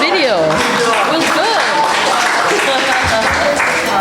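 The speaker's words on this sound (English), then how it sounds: "We're clapping for the video" Applause from a Buddhist temple congregation at a Dharma service, steady clapping throughout with talk and chatter mixed in.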